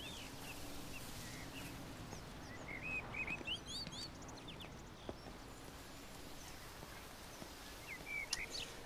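Birds chirp and tweet in short, scattered bursts within a video game's quiet outdoor ambience, with a low steady hum and faint clip-clop-like thuds underneath, the brightest trills around the middle and near the end.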